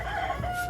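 Old hens in an outdoor run, sheltering from rain and wind, give a short burst of clucking and crowing-like calls, close and clear over a steady background.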